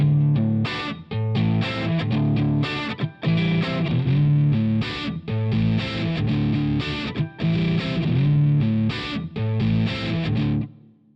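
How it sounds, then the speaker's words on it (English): Heavily distorted electric guitar chords chug through an amp in rhythmic, punchy strums with short stops between phrases, loud and close. "so you can fine-tune the balance of the buzzier preamp and crunchier power amp distortion characteristics"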